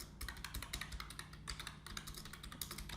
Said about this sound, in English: I just type the second post and type some descriptions